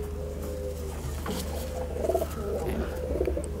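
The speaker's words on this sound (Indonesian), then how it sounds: "Nah ini merpati balapnya." Soft, low cooing of racing pigeons repeats in a steady murmur over a constant low hum, the calls gentle and fairly close.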